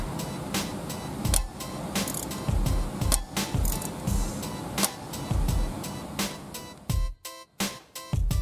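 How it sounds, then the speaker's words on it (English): A Bendix air disc brake adjuster being turned by hand, giving a series of sharp mechanical ratchet clicks and gear-like ticks spread through the clip, with a few distinct clicks near the end. "turn the adjuster the opposite direction until you hear three clicks"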